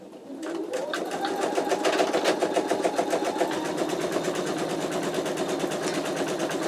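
An embroidery machine stitches a placement line across fabric, a steady rapid needle chatter running close and loud without pause, with a faint whir beneath.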